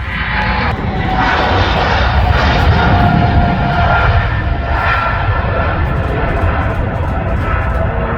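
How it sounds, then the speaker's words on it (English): An Emirates Boeing 777 jet accelerates down the runway on its takeoff roll toward Dubai, a loud, continuous broadband engine roar that stays close and steady throughout, without talk. "Emirates is accelerating, charging up."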